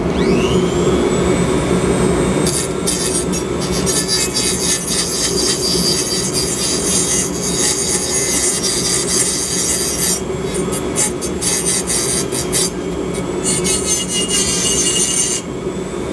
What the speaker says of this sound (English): What I'm doing is I'm roughing out my key with the grinder.